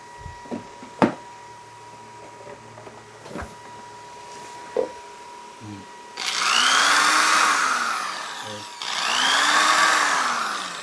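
A power drill being tested during a home solar panel installation: a few sharp clicks and taps, then two loud, sustained whirring bursts, each lasting a couple of seconds, with a short pause between them.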